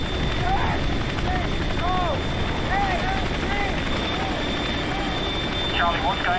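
A helicopter arriving for an airlift in the war film Kilo Two Bravo, a loud continuous rotor throb and engine whine, with shouting voices over it throughout.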